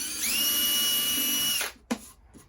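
A power drill bores a sound hole through a cigar box guitar body, a steady high whine running loud for about a second and a half before cutting off, followed by a couple of faint knocks.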